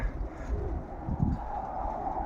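Breeding pigeons in a loft compartment coo in low, soft pulses over a steady background hum, with a slightly louder burst of cooing near the middle.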